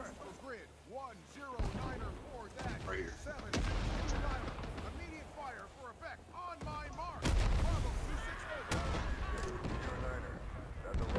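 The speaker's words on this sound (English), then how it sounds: "we got some boo-goo ass bombs coming in, boys. Watch your heads." Incoming bombs in Rising Storm 2: Vietnam land as a string of heavy booming blasts and gunfire, some near and loud, others distant, under a player's talk.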